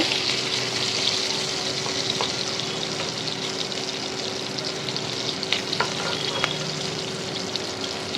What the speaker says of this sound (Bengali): মাছগুলো ভাজা হয়ে গেছে আমি এখন তুলে নেব